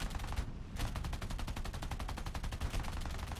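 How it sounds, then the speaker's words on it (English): Rapid bursts of aircraft machine gun fire from a C.200 fighter in a flight combat game, a dense rattling stream of shots with a brief gap early on, loud and continuous. "I start firing and get a couple of hits on this guy"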